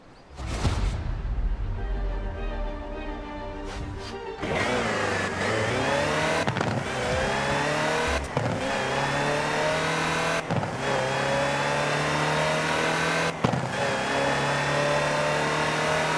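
Land Rover Type 3 engine in Forza Horizon 4 revving and accelerating steadily, with several sharp drops where gears shift, loud and close throughout, no talk.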